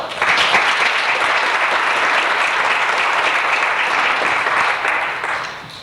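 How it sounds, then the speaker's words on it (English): Sustained audience applause at a Christmas recital, many hands clapping in a dense, even wash that holds steady for about five seconds before tapering off near the end. "I think she deserves a round of applause also"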